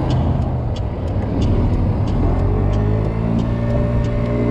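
A Kymco Agility 50 scooter engine is held at its rev limiter, making a loud, sustained, buzzing drone close by that stays steady throughout with only slight wavering.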